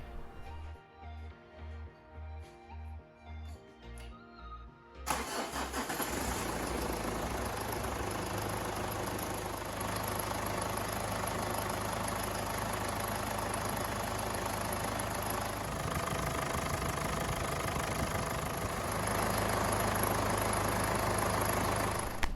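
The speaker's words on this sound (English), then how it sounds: "all that's left to do now is I'll start the engine" 2007 Ford Ranger 3L engine cranking with a rhythmic chug for about five seconds, then catching and settling into a steady, loud idle with a deep rumble and a high whine, heard close.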